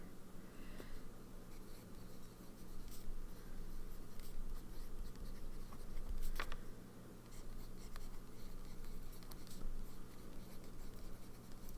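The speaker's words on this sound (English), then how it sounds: "So we'll do our little bitty writing sample." A fountain pen with a medium nib writes on paper with dark Van Dieman's ink, giving quiet, scratchy strokes and small taps against a low steady background hum, with no talking.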